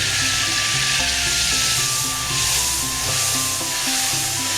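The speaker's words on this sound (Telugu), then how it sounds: "దీని నుండి వచ్చే చిటిపడిలాడే సౌండ్ ఆగిపోయేంత వరకు మరిగించుకోవాలి" Oil mixed with carrot juice boiling in a pan on a stove, crackling and sizzling steadily with dense, continuous spitting pops throughout, close and fairly loud.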